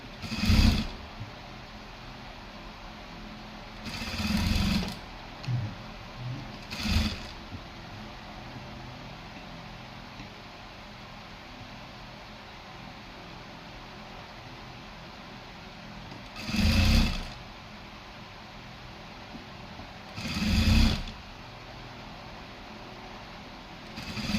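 A sewing machine runs in several short, separated bursts of whirring stitching along the lower edge of a blouse, close and moderately loud, with long quiet gaps of low background hiss and no talking.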